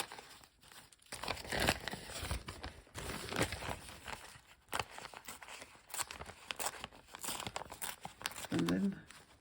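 Material being ripped apart by hand for a craft project, bursts of papery crinkling and tearing that come and go close to the listener while a person talks over them.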